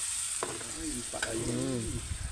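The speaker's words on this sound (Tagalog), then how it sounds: "itong dugo, habang inilalagay natin, yan ay halo ng halo" Pig blood is stirred continuously into a simmering pot of dinuguan pork stew, giving a close, steady sizzle with scraping stirring strokes throughout.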